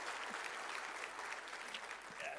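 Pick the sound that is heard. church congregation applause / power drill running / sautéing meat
church congregation applause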